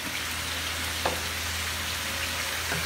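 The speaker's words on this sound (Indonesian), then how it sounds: "biar enak tambah enak kita goreng dulu" Tofu pieces frying in hot oil in a pan for cabbage stir-fry, a steady dense sizzle and crackle running continuously and close throughout.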